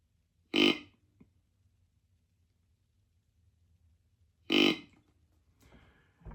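A deer grunt call sounds in short, deep, guttural bursts, two loud grunts spaced several seconds apart with a fainter one at the end, over a quiet background.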